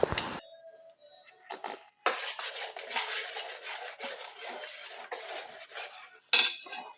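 Thick fufu dough being stirred in a pot, heard as close, wet scraping and rubbing strokes with metallic clinks of the utensil against the pot, in bursts with short pauses.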